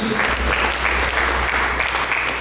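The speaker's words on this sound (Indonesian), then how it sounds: "Mari kita berikan tepuk tangan bagi Yesus" A church congregation applauds together in a dense, steady wash of clapping that holds at full strength from start to finish.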